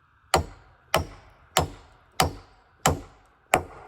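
A large nail is hammered into a wooden generator deck built from trees, six sharp, loud strikes landing at a steady rhythm about every two-thirds of a second, each ringing briefly.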